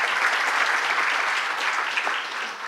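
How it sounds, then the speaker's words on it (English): Warm, sustained applause from an audience at an agriculture-focused food event, a loud, dense patter of many clapping hands that fills the room evenly and tapers slightly near the end. "a warm round of applause"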